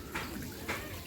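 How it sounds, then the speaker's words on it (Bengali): Water falls and splashes at the Kumartuli idol-making workshops in Kolkata, a soft, muffled steady trickle with two slightly brighter splashes, heard faintly. "জল পড়ে যাচ্ছে।"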